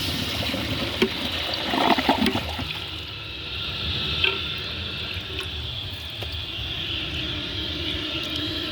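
A 1999 Crane Atlas toilet flushing: a strong rush and gurgle of water at the start that settles into a steady, softer refill hiss, close up with no talking.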